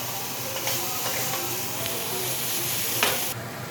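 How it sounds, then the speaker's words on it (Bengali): Broccoli and carrot fry in hot oil with a dense, continuous hiss and crackle, close and fairly loud, with a few faint stirring knocks. "এবার এই দুটো একটু ভাজা হোক"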